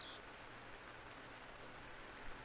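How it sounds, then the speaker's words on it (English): Steady rain falling in The Legend of Zelda: Breath of the Wild, a soft, even hiss of raindrops throughout, faint and continuous with no voices. "Rain obscures one's view and steals one's concentration."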